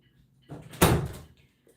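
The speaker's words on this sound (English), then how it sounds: "Jay, close my door so the dog won't come in" A door closes indoors with a short shuffle and then a single soft thud, fairly close and brief, with faint background noise around it.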